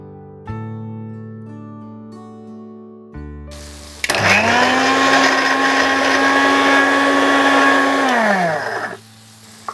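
A mixer grinder blends a spice paste with a little water for smoked mango chicken, starting with a steady, loud whine that holds for about four seconds before stopping, preceded by background music.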